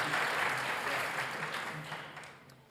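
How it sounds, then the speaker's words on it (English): Audience applause at a scouting leadership forum, a dense, steady wash of many hands clapping that fades slightly toward the end. "Let's give a round of applause for Recha."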